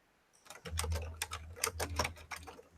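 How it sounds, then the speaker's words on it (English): Quick, irregular bursts of key clicks ring out from someone typing on a keyboard, close and fairly quiet, a run of taps with brief pauses between them. "Are you typing to Randy?"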